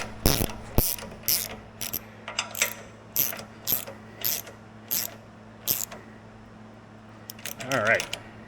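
A socket on a ratchet turns during a bearing replacement, producing a series of close, sharp clicking bursts in a regular rhythm, with someone speaking briefly near the end.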